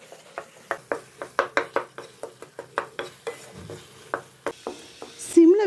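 A spoon stirs sugar and condensed milk together in a pan for rose laddu, making a steady run of distinct scraping strokes, close and fairly loud, ending with a brief clatter.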